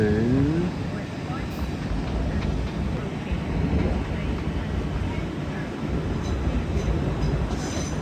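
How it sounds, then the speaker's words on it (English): A pair of South Western Railway Class 450 electric trains passing at Clapham Junction, a sustained rumbling roar with wheel clatter and a brief squeal at the start, with someone talking over it. "we have a pair of South Western Railway 450s coming down from London Waterloo to"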